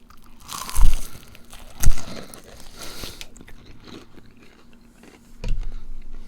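Crispy Chinese takeout-style fried chicken wings are bitten with two loud close crunches, followed by quieter chewing and a final crunchy bite.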